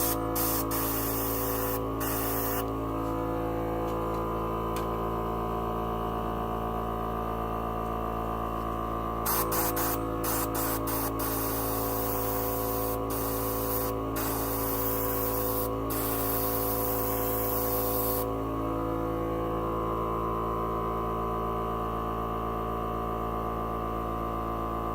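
A dual-action airbrush with a 0.2 mm needle sprays paint while preshading a Gundam model kit, giving a continuous airy hiss over a steady electrical hum that turns broader and more erratic midway, with no talking.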